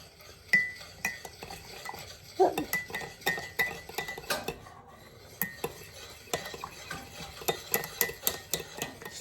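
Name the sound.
stirring Cajun cream sauce in a pan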